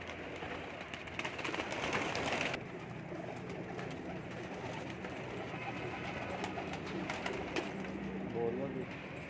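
Indian Teddy pigeons in a home loft coo softly and steadily over a busy background, with someone talking nearby.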